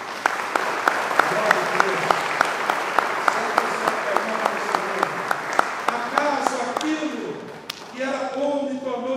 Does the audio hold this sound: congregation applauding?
yes